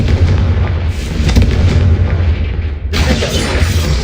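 A Confringo fire spell bursting in Hogwarts Legacy, a loud sustained blast with heavy low rumble, a brief dip near the end, then another booming impact.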